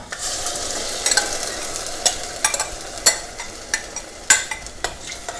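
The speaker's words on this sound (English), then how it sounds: "stir that all around." A spoon stirs a tomato and paste sauce with okra in a frying pan, a steady sizzle underneath and sharp scraping clacks against the pan every second or so, close and alone without voices.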